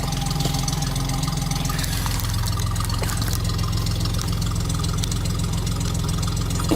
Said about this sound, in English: I like to start it up every day, keep the batteries good and hot, and keep the engine lubricated